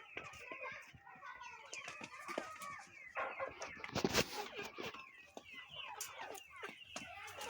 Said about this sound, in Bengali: বাকি সব কিন্তু এখানে মুরগি আছে